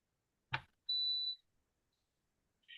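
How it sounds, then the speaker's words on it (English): A soft thump, then a single high electronic beep from an iron. A second beep starts just at the end, all quiet and isolated. "it's this iron that's making that beeping noise"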